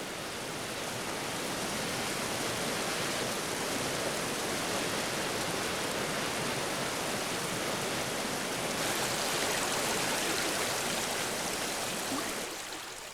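Rushing torrent of a swollen stream after rain, where peccaries once mud-bathed, roaring as a steady dense broadband wash that stays loud and unbroken throughout with no voices.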